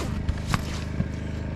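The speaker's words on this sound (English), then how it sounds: "Excuse the noise in the background of my generator." A steady mechanical hum of a generator running in the background, constant and droning, with a few faint knocks and scrapes nearby.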